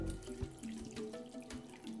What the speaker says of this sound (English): Pour the cream on through, and that is our strained coconut cream.